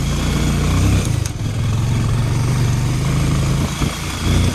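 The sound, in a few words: motorcycle riding on slippery red dirt road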